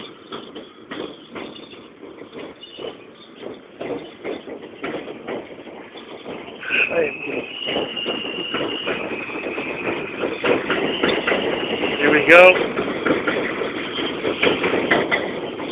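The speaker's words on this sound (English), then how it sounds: "Eastbound J train coming." An eastbound J subway train arrives on the elevated Broadway line in Brooklyn, its rumble building from a distant clatter to a loud, close roar with rhythmic wheel knocks and a sharp metallic squeal near the end, while someone speaks briefly.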